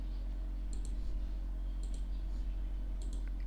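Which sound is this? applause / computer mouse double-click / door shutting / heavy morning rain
computer mouse double-click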